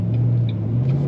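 A white and silver 2007 Ford Mustang Shelby GT coupe with a 5-speed manual transmission drives along, its engine giving a steady, loud low rumble with no talk.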